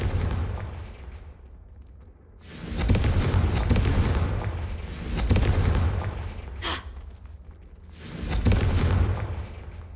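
Repeated booming blasts from the Confringo fire spell in Hogwarts Legacy, three or four loud, broad explosive bursts a couple of seconds apart, each swelling and decaying, with a sharp crackle between them.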